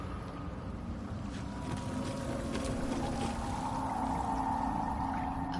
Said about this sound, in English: A vessel wobbles on the lake's murky waters.